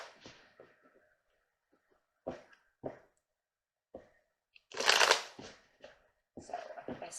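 Tarot cards are handled and shuffled close up in a quiet room, with scattered soft taps and a brief riffle burst near the middle, followed by more light card sounds.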